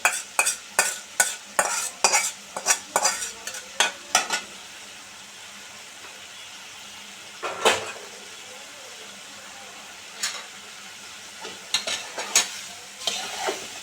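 A spoon stirs fried taro roots through a prawn curry in a pan, scraping in quick rhythmic strokes at first, then pausing to a quiet sizzle before a few more scattered stirs near the end.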